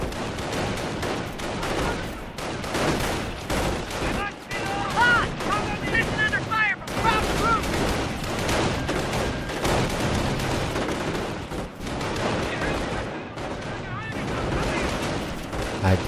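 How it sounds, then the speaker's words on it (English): Dense gunfire and explosions from an enemy attack on a base in the strategy game Company of Heroes, loud and continuous with bursts throughout, voices talking underneath. "Headquarters report taking enemy fire"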